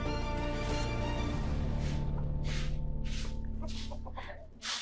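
Chickens in a coop that is being cleaned, a dense, steady din of clucking hens with several overlapping calls and a few louder squawks rising near the end, close and loud throughout.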